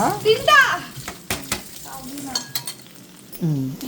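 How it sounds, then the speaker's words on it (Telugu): Onions fry and are spread around a pan, a soft sizzle with spoon scrapes and taps, while someone talks and a voice is heard nearby. "ఈ ఆనియన్స్ అన్నీ స్ప్రెడ్ చేసుకోవాలన్నమాట"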